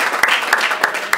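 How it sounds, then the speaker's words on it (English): An audience at a school board meeting applauds a student performer from a talent show, a steady wash of clapping filling the room at moderate loudness, with no voices over it. "let's give her a round of applause"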